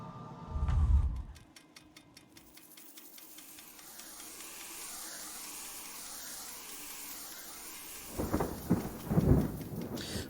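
Steady rain hissing throughout in the video game Doors, with deep rumbling thunder rolls near the start and again toward the end, no voices.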